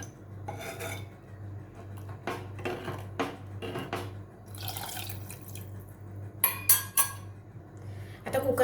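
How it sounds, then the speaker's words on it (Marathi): Water poured into a pot of salted dal for Maharashtrian varan, a soft splashing trickle in several uneven bursts with a few clinks of kitchenware over a steady low hum, no talking. "आता आपल्याला जितकी डाळ घट्ट पाहिजे तितके पाणी ओतून घेऊया त्यामध्ये"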